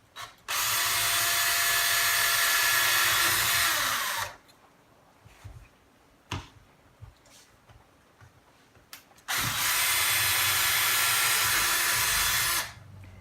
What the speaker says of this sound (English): Drill the hole for the gauge, furthest from where the cord is attached.